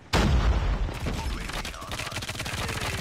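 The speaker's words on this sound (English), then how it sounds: "that's a grenade" A grenade explodes in a ranked Call of Duty match with a sudden loud boom, followed by rapid, dense gunfire that rattles on for several seconds up close.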